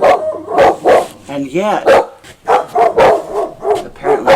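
Several dogs bark at a horse passing by outdoors, with sharp, repeated barks mixed in among a person talking nearby.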